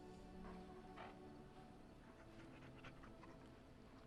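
A dog panting in Dragon Age: Origins, quick rhythmic breaths with a few soft whimpers, quiet and close over a low game ambience.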